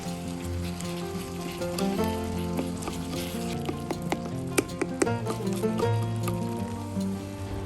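Steady sizzling and frying of tomatoes in a pan for a South Indian crab masala gravy, with occasional sharp crackles and stirring, continuous and close, no talking.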